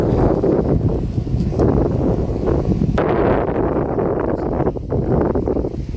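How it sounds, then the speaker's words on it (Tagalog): Strong wind blows outdoors, a continuous loud, low rumbling roar buffeting the microphone in uneven gusts, with no one talking. "Malakas yung hangin, di ba? Lakas oh."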